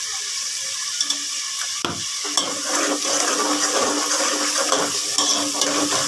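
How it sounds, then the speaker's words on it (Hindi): Green masala spices frying in a pan for moong dal, a steady bright sizzle and crackle with faint clinks of a utensil stirring, continuous and close with no talk. "तो अच्छे से फ्राई कर लेते हैं अपने मसाले को।"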